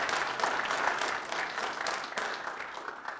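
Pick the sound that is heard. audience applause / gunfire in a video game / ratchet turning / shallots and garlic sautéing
audience applause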